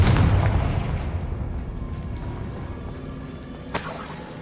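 A Confringo fire spell blasts in Hogwarts Legacy: a loud broadband burst up front that decays into a long rumbling tail, then a second sharp crack near the end.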